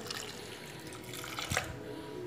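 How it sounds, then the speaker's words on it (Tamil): Water is poured into a pot of turmeric-seasoned lentils for sambar, a soft, steady splashing pour that swells briefly near the end. "இந்த பருப்புக்கு தேவையான தண்ணி கொஞ்சமாக ஊற்றிக்கோங்க."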